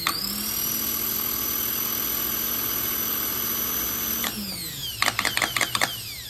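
A rebuilt Honda Accord starter motor spins with a loud, steady high-pitched whine for about four seconds, then winds down, followed by a quick burst of sharp clicks.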